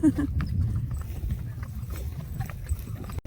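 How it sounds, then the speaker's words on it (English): Horses moving nearby on a hiking trail at Los Penasquitos in San Diego, with soft irregular hoof clops and low rumbling over a steady outdoor background, fairly quiet. "Such beautiful horses."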